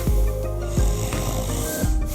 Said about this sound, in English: This tracker system responds instantly to snoring before it wakes you up.